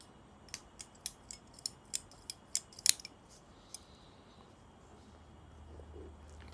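Scissors snip through an Oliva Serie V Double Robusto cigar, a quick run of about eight sharp, crisp clicks building to one louder cut, then near silence with faint room noise; close and quiet.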